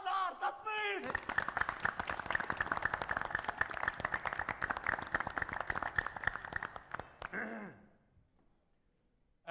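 A crowd claps in a dense, rapid burst of applause that runs for several seconds before tapering into quiet. A short vocal sound comes just before it starts.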